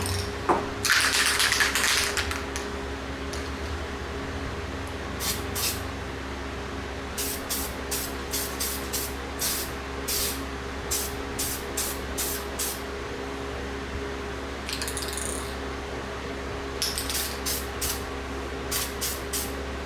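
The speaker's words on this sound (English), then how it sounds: "I'm gonna coat them with permatex high-tack sprayer gasket sealant" Short hissing bursts of Permatex high-tack gasket sealant sprayed onto new engine gaskets during an M52 stroker engine build, a few sharp spritzes then a run of quick rhythmic puffs over a steady workshop hum.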